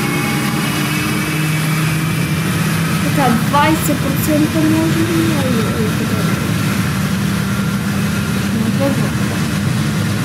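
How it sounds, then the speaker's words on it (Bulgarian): A Boeing 777-300ER engine spools up in the Project Flight video game, giving a steady hum with rising whine tones under ongoing conversation. "Другия ми двигател още се стартира."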